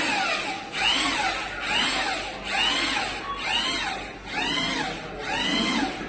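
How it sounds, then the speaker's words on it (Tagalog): NBI agents run a power drill at the GSIS building, its whine rising and falling in about five repeated drilling bursts, loud and close, with slight pauses between them. "Drill."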